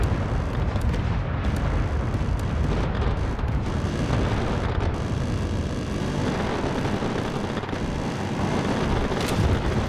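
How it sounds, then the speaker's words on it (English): Heavy broadside cannon fire between battleships in Space Engineers, a dense continuous roar of overlapping booms and rumbling blasts that stays loud and sustained throughout with no pauses. "But this is some nice broadside action here."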